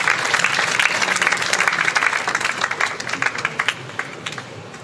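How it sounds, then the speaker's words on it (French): An audience at a ceremony marking the 80th anniversary of the Thiaroye camp in Senegal applauds loudly after a UNESCO official's address. The sustained, dense clapping thins into scattered individual claps near the end. "Est-ce qu'on peut encore l'applaudir très fort, s'il vous plaît?"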